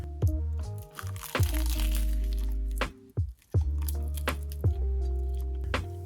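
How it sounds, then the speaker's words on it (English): Someone bites into onigiri, a Japanese rice ball wrapped in dried seaweed, giving repeated crisp crunches and crackles every second or so, close up over a steady tonal background. "But the dried seaweed was crunchy"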